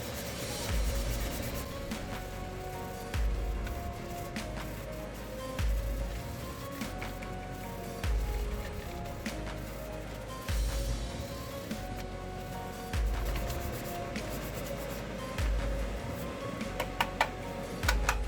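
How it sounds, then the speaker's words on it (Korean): Repeated back-and-forth scratchy strokes of 400-grit sandpaper rub steadily against an RC airplane wheel pant, close and rhythmic, with soft thumps between passes. "다시 한번 400 정도 되는 숫자의 사포로"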